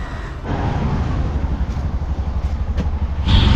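An auto rickshaw carries passengers from Murudeshwar station to the temple in Karnataka; its engine gives a steady, close, rumbling drone that runs unbroken throughout with no talking.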